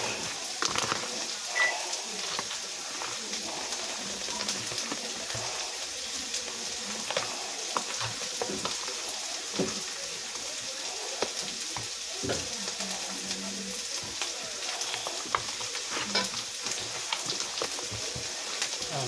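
Meat with carne asada seasoning sizzles in a pan for homemade chili while being stirred, making a constant crackling fry broken by scattered scraping and clicking stirs over a long stretch.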